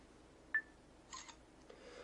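Phone camera focusing and snapping a picture of a small lens: a sharp faint click, then a brief whirring burst of the shutter and a softer final click, close and quiet.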